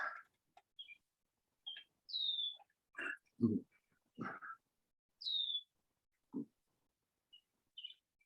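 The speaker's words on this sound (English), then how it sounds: "The birds are making a lot of noise." Scattered bird calls and chirps ring out outdoors, short and separate with quiet gaps, some sharp and high, others lower and rougher.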